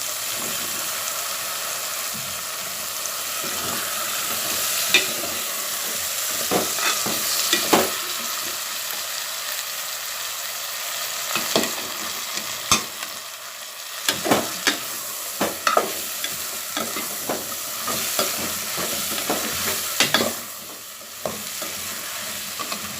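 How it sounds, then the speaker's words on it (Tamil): Eggplant, being cooked for a tamarind curry with black-eyed peas, sizzles and fries in a pan, with repeated stirring scrapes and clatters of a spatula over the steady crackle. "கத்திரிக்காயும் நல்லா வதங்கிருச்சு"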